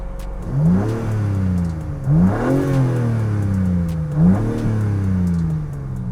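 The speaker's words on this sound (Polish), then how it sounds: "Ten samochód ma jeszcze seryjny wydech, dlatego posłuchajcie sobie, jak brzmi." A Dodge Charger with its stock exhaust revs up three times in succession, each rev rising sharply and then falling back to a rumbling idle, close and loud.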